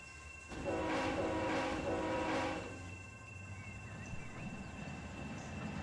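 A train in the Run 8 train simulator rolls over a track switch, with a loud horn-like tonal blast early on that fades into a steady rumbling run of wheels on rails.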